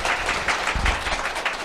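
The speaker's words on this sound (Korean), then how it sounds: "박수로 환영해 주시기 바랍니다." A seated audience applauds to welcome four guests onto the stage at a Korean business group event, with steady dense clapping throughout and no talk over it.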